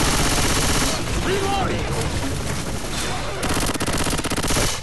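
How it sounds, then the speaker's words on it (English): Rapid, continuous gunfire from a gun in the video game Left 4 Dead 2, in a woodland level, sounds as a dense, loud stream of overlapping shots with no clear breaks. "I swear this gun doesn't shoot real bullets."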